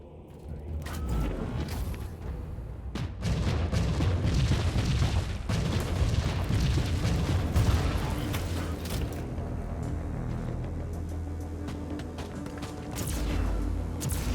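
Grenade blasts and heavy combat booms from the action RPG Warhammer 40k Inquisitor Martyr, a dense, loud run of rumbling explosions and clanking mechanisms that keeps up through the whole stretch with no pauses.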